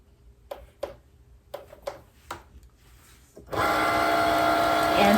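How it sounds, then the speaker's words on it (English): A Cricut machine cutting vinyl starts up after a few light clicks and taps, then whirs in a steady, close motorized drone. "I am using the Cricut machine to cut the vinyl."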